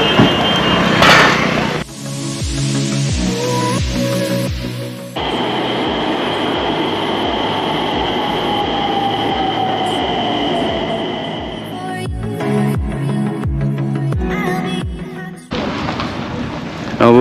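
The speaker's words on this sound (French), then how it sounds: "on va prendre le métro" A Nagpur Metro train in India rumbles along loudly with rhythmic clacks of wheels over rail joints and a long, thin squeal of metal partway through.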